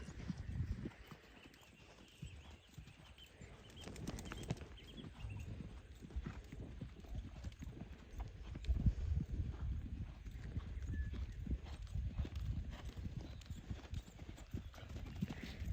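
Horse hooves clip-clop in a steady, rhythmic gait on soft ground, with occasional snorts and brief bursts of faint talk in the background.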